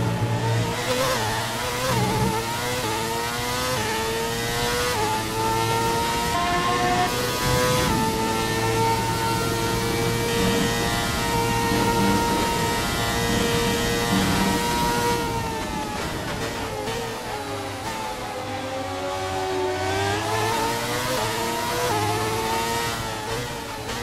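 Formula 1 Renault race car in the F1 2019 video game, engine screaming at high revs down the Mistral straight, a steady loud whine with pitch shifts as it holds top speed, no talking.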